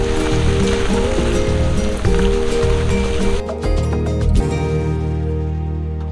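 Heavy rain pours down steadily on a family farm, a dense, continuous hiss with a low rumbling undertone and no voices.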